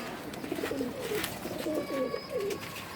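Male pigeons of a fancy bloodline, including green-necked khaki males, coo repeatedly in soft low rolling phrases, several overlapping calls close by against a steady background hiss.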